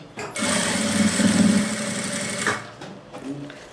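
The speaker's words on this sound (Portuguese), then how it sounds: "vou costurar aqui de um lado e depois do outro lado também" A sewing machine stitches fabric for a small craft case, running in a steady close whir for about two seconds before stopping, followed by a short quieter burst.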